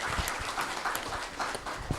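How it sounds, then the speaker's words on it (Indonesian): Audience applause at a Teachers' Day talk-show event in Serang, Indonesia, steady and fairly faint, a dense patter of many hands with no voices on top. "Tepuk tangan."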